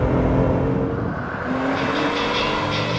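Nissan Juke-R and Porsche 911 GT2 RS racing on a track in tricky conditions, engines droning steadily at a distance with a faint rising whine, no talk.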